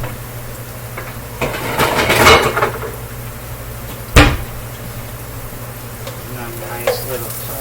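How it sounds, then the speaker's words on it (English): Greasy ground meat crisps and sizzles in a frying pan, with a clattering toss partway through and a sharp knock of the pan shortly after, over a constant frying hiss. "Nice little toss there. It's crisping up good."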